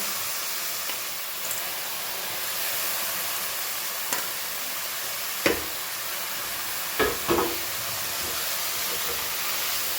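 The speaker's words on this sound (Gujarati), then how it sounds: "હવે આપણે પાલક એડ કરી લઈએ." Fresh spinach hitting a hot pan of oil and spices in a home kitchen, a steady close sizzle with a few sharp clinks and scrapes of a stirring spoon against the pan.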